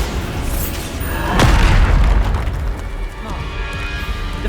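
Bombarda blasting spell in Hogwarts Legacy combat: a loud booming explosion bursts out of a dense, noisy battle mix, with a low rumble trailing off over continuous game sounds.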